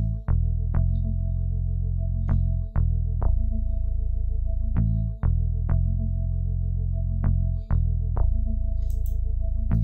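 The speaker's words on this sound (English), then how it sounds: "I added another sound, the tremolo signal." A tremolo-style synth lead from FL Studio pulses over a deep, sustained bass in an Amapiano beat, with sharp recurring plucked attacks punctuating a steady, loud electronic loop.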